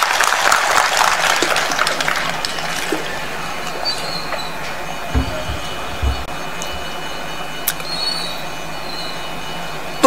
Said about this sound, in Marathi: एकदा राजूरकरांसाठी टाळ्या वाजवा